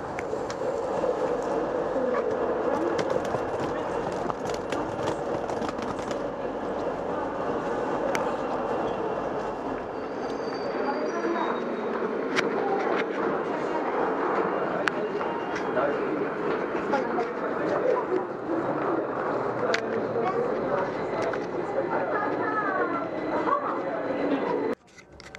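A railway carriage rolls along the rails with a continuous rumble and scattered clicks and rattles, heard from inside the coach, with a voice talking over the noise before it cuts off at the end.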